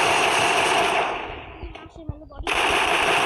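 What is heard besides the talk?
gunfire from the video game Free Fire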